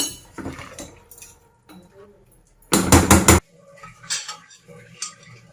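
A spoon scrapes and clanks against a pot as paneer vegetable pulao is stirred, giving a few sharp metallic clatters, including one loud burst midway, with a voice talking between them.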